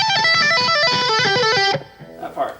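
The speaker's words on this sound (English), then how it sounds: "the tapping part that sounds like this" A fast tapped guitar solo run on a Chapman electric guitar, bright distorted notes cascading in quick succession for under two seconds before cutting to faint noise.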